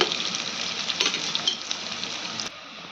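Onions frying in a pan for pulao give off a steady, close hiss of sizzling oil with light stirring scrapes, then drop suddenly to a quieter sizzle near the end.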